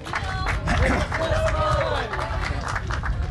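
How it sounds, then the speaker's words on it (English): Elementary school kids cheering and clapping at an outdoor aquarium planting event: a lively burst of crowd noise and scattered applause, mixed with a voice talking over it. "Kind of raise your hands or cheer."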